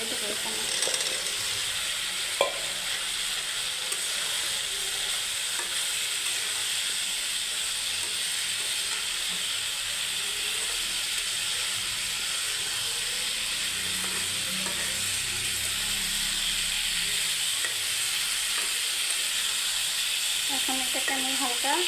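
Vegetables tossed into hot oil with ginger-garlic paste for a curry sizzle loudly and steadily for over twenty seconds, with occasional scrapes of stirring in the pan.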